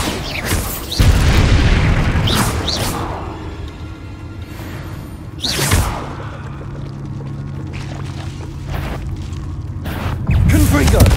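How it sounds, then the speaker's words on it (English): Bombarda blasting-spell explosions in the Hogwarts Legacy video game: three heavy booming bursts spaced several seconds apart, each with a loud thump and a rushing tail that fades into a lower rumble between blasts. "Bombarda!"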